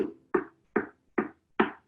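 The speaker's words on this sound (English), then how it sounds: "So we are going to practice our knock on our ukulele" Four crisp knocks on a hollow wooden ukulele body, evenly spaced and close, each with a short resonant ring, no voices.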